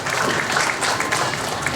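Audience at a Qur'an completion ceremony for students of TPQ Al-Ma'ruf Cebongan claps in a steady, dense burst of applause with a faint voice underneath.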